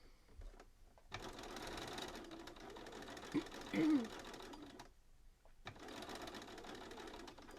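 A sewing machine fitted with a walking foot stitches in two steady bursts of rapid mechanical whirring, separated by a short pause, close and clear.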